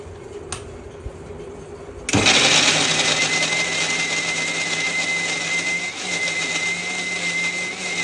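An electric blender grinds ginger and garlic, starting abruptly after a quiet moment and then running as a loud, steady high whir up close until the end.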